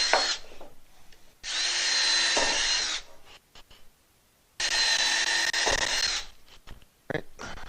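A power drill pre-drills into a cement basement wall for Tapcon screws, running in two loud, sustained bursts of about one and a half seconds each, separated by a pause and followed by brief, short revs.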